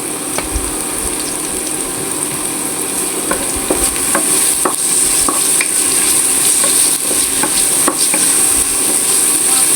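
Onions fry in a pan for a tangra fish curry, giving a loud, continuous sizzle with repeated scraping clicks from stirring. No voices.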